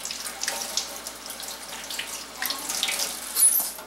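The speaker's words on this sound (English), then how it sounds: "I'm going to turn on the hot water and I'm going to wash my hands" Hot water runs from a kitchen tap for hand washing, a steady hissing splash that holds throughout and swells slightly near the end.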